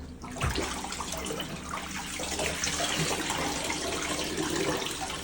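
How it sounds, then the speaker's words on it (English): Soaked denim jeans, vintage Levi's or Wrangler, pulled out of dirty wash water in a tub, giving close sloshing, splashing and trickling water that runs continuously as the fabric is lifted and drains, with no talking. "I'm going to pull them out of the water, and we're going to see how nasty the water is"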